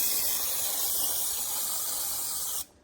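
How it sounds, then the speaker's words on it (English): A Misto aluminium oil sprayer mists oil onto a paper towel in one continuous close hiss lasting nearly three seconds, then cuts off sharply. "it sprays a really nice, even, fine spray"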